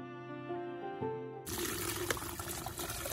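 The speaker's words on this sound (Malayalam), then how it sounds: "ഇതുപോലെ ഒരു പഴയ അരിപ്പ് ഉപയോഗിച്ചിട്ട് നമുക്ക് ഈ ഒരു വേസ്റ്റുകളൊക്കെ ഒന്ന് അരിച്ചെടുക്കാം എന്നിട്ട് ആ ഒരു ലിക്വിഡ് മാത്രം നമുക്ക് ചെടിയിലേക്ക് ഒഴിച്ചു കൊടുത്താൽ മതി" Liquid fertilizer strained through an old sieve and poured onto aloe plants: a soft tonal sound gives way to a steady splashing pour that runs close and continuous for the second half, with no talk.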